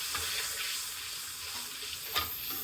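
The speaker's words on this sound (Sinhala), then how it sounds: "ඊට පස්සේ මෙන්න මේකට මම දානවා සෝස් දානවා ටොමැටෝ කෙචප්. දාලා මේක මේ විදිහට පොඩ්ඩක් කලවම් කරනවා." Buttered mushrooms with tomato ketchup sauce stirred in a pan, a continuous bright sizzle with soft scraping from the spoon, close and steady with one brief louder clack near the end, no voices.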